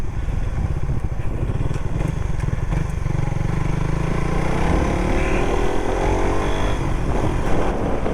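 A Raider FI motorcycle engine runs steadily and fairly close, its droning note climbing as it accelerates midway, with no talk.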